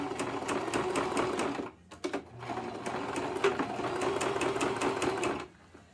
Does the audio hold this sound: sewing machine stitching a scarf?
yes